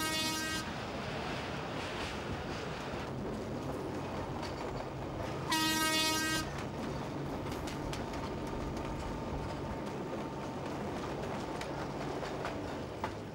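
A train between Dire Dawa and Djibouti rumbles steadily along the tracks with a faint rhythmic clatter, and two loud horn blasts sound, one at the start and one midway.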